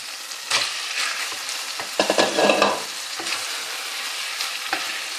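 Chicken goes into a pan of fried tomatoes, giving a sizzling fry with a spoon scraping and stirring through it and a few louder clatters and bursts in the middle. The cooking is close and no one speaks.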